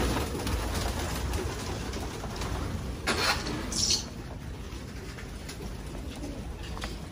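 Racing pigeons coo inside a loft, soft repeated calls over a low background hum, with one brief louder burst of activity midway.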